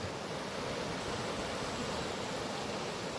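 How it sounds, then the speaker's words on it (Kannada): Arabian Sea waves where the Gomati river flows into it at the ghats of Dwarka, Gujarat, heard as a continuous broad wash of surf, steady and fairly loud without distinct breaks. "ಇದು ಅಲೆಗಳು ಸಮುದ್ರದ್ದು. ಅರೇಬಿಯನ್ ಸಮುದ್ರ."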